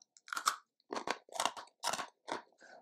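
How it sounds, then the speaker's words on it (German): Crunchy jalapeño-flavoured pretzel pieces are bitten and chewed close up, giving six or seven sharp, brittle crunches in a steady rhythm with silence between each, quiet overall and free of talk. "unsere Laugengebäckstückchen sind auf jeden Fall sehr, sehr knusprig, wenn man da reinbeißt"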